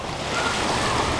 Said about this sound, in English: The waves coming right up to where the tree is.